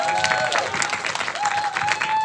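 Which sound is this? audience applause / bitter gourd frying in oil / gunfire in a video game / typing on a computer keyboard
audience applause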